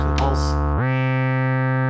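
A synthesizer VCO switches from a brighter, shifting tone into a steady pulse wave, hollow and buzzy, droning evenly at constant loudness to the end.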